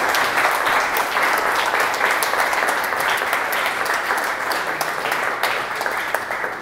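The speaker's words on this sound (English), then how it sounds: "Would you please give him a round of applause?" Audience applause fills the room at a city community event, steady broadband clapping from a large crowd sustained throughout at moderate loudness with no speech over it.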